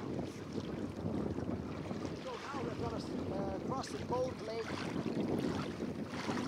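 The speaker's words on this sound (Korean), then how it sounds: "멀리서 들리는 새들의 울음소리와 찰랑거리는 물소리" Calm sea water laps gently around a kayak on a midnight paddle in Finland, a soft steady wash with wind buffeting the microphone and distant bird calls drifting in midway.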